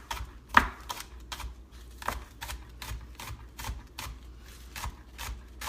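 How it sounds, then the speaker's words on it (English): A knife chops green onions on a cutting board in a rapid, fairly even series of crisp close taps, with one sharper knock near the start and no talking. "I'm just going to chop these up real quick."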